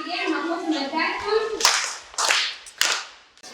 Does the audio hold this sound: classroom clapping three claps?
yes